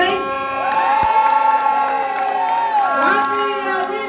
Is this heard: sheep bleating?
no